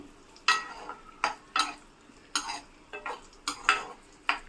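Raisins fry in a pan with a faint sizzle under repeated spoon strokes, scraping and clinking against the pan in an irregular rhythm, with no talk.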